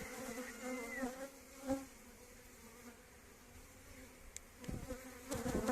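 A steady, dense hum of many honeybees buzzing close by at an open hive, with a few louder passes and light handling noises near the end.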